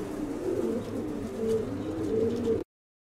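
A flock of diving-breed pigeons coos continuously at close range, low rolling throaty calls overlapping in a steady murmur that cuts off abruptly.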